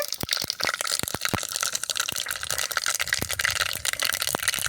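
Mustard seeds dropped into hot oil for a crispy Tamil potato fry, crackling and popping in quick irregular bursts over a constant hiss.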